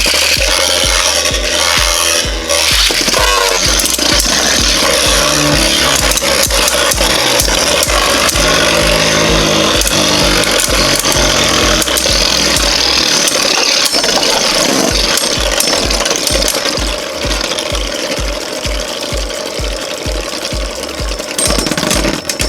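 Two left-spinning Beyblades, Mirage Fafnir and King Helios, clash loudly in a stadium, with a steady high metallic whirr, rapid rattling knocks and scraping throughout, pulsing rhythmically and continuing without pause for over twenty seconds.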